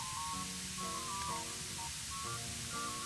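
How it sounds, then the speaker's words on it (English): Spray painting a Moogle in Final Fantasy Crystal Chronicles, a steady faint hiss of spray running continuously under a light looping melody of tones. "It takes a very long time to spray paint the Moogle."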